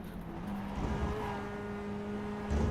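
A Mazda MX-5 race car engine drones steadily in the iRacing sim at Watkins Glen, a fairly quiet, sustained hum at roughly constant revs with no voices.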